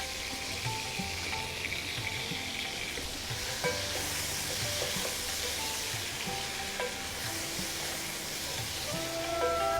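Tomato and dried red chillies fry in a hot pan for fish pulao, giving a steady close-up sizzle and crackle throughout, with light scraping from stirring.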